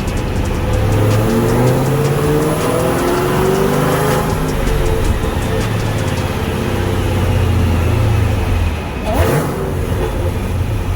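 A Dodge Hellcat fitted with a 426 Hemi engine running on a dyno, a loud, close engine drone holding steady revs with rising and falling pitch and a brief dip near the end.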